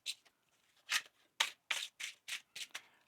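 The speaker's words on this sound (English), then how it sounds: "One more shuffle." A tarot card deck being shuffled by hand, a run of crisp riffling bursts in quick uneven rhythm, close and fairly quiet, with no talking.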